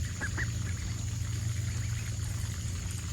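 Backyard chickens cluck in short bursts over a steady low hum, near and moderately loud, with no talking.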